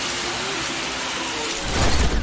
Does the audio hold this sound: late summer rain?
yes